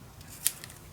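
A single quick scissor snip through paper while trimming a corner for a Roaring Twenties mini album in a box, a brief close crisp cut over a quiet room background.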